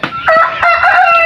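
A backyard chicken calls loudly and close in a brief, drawn-out crowing cry with several bright rising and falling notes, no talking.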